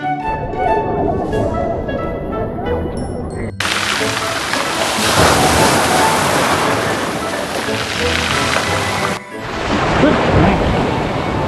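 Sea waves surging over a rocky beach at Boccadasse in Genoa, a loud, continuous wash of surf that swells and breaks with hissing spray close by.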